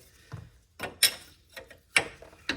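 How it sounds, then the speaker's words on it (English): Several separate metallic clicks and ratcheting knocks from a wrench loosening an 18 mm castle nut with a cotter pin on a Saturn Vue front control arm, close and irregular with brief gaps between strokes. "we're just gonna go ahead and wrench them off"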